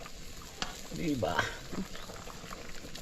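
Ginataang langka, jackfruit simmering in coconut milk, bubbles in a pot on a new stove with a soft, steady bubbling and sizzling close by, while a voice speaks briefly over it.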